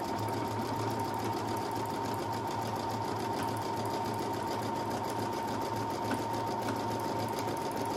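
A Brother Innov-is 200 sewing machine stitches a buttonhole, running as a steady, fast, continuous mechanical whir and needle rattle at close range throughout, with no voices over it.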